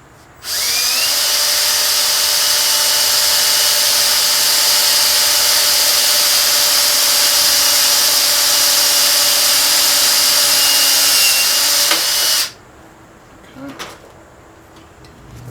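A power drill whines loudly and steadily for about twelve seconds while drilling a hole for an electrical handy box, then cuts off, followed by a few faint clicks and handling noises.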